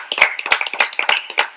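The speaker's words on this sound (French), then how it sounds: "Allez, applaudissements." Rhythmic hand claps from a small group answer a call to applaud during a French talk-show interview, with sharp, evenly spaced claps that are loud and close and carry no talk.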